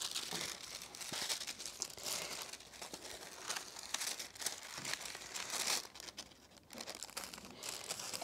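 Kite material being cut by hand, a faint, close crinkling and rustling that runs steadily throughout with no talk.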